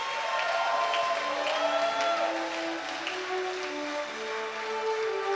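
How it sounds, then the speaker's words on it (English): An audience applauds at the World's Best Receptionist 2023 competition event, with a sustained, even roar of clapping, a faint tonal hum mixed underneath. "And while you're clapping for them, you can just take a 5 seconds clapping break"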